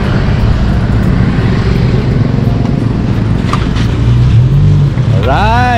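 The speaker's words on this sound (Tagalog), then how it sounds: "Uy, may motor pala." A motorcycle's engine drones close by over a constant background roar, rising briefly toward the end as it passes, with a voice calling out beneath the noise.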